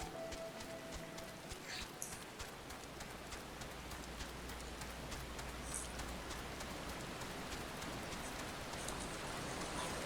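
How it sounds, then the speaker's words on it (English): Steady rain falls across the whole stretch of a Final Fantasy XIV game scene, a dense even patter with no talk over it. "It's still raining."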